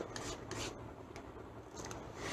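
A nail file rasps back and forth across a decoupage coaster in steady, close strokes, a dry scratchy rubbing repeated several times with no voices.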